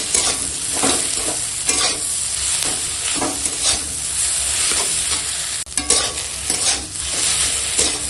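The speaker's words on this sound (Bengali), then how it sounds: "এখন এই সিদ্ধ করা আলুটা দিয়ে দেবো পরিমাণে, দিয়ে ভালো করে চোখা বানিয়ে নেব।" Boiled potatoes being mashed and stirred into lightly fried aromatics in a hot pan for aloo chokha, giving a steady close scraping and stirring sound over a soft sizzle, with no talking.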